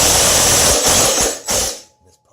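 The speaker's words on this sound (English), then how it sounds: "We're using 3-inch exterior screws. Putting them right through those holes we drilled." A power driver sinking 3-inch exterior screws through pre-drilled holes in a homemade wooden weight bench, a loud, close whirring burst with a brief pause, then cutting off into near silence.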